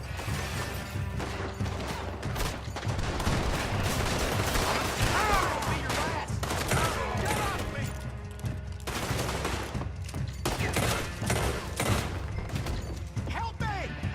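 Gunfire from Red Dead Redemption 2 in a saloon-style brawl over liquor business, with steady rapid shots and mechanical clicks over a busy, continuous mix of game sound and faint voices.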